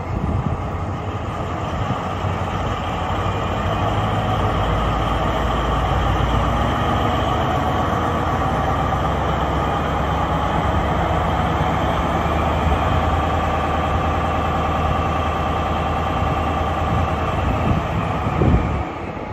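Railway carriage and locomotive being coupled at a station in the old town of Regensburg, a steady loud rumble of rail machinery holding throughout with a continuous low drone and no talk.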